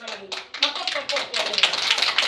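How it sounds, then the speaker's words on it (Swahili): Applause for the regional commissioner at a public gathering in Dar es Salaam: a crowd's hand clapping, building in bursts and then sustained and fairly loud. "Makofi kwa mkoa."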